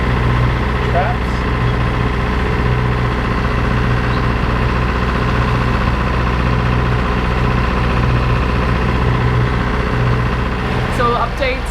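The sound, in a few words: boat engines running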